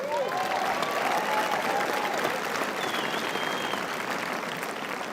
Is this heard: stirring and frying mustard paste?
no